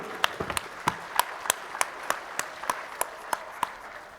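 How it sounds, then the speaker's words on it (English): Sparse audience applause at a mayor's men's breakfast thanking panel guests, a handful of distinct, evenly spaced claps ringing out close and clear with little else around them. "Let's give them a round of applause for being here."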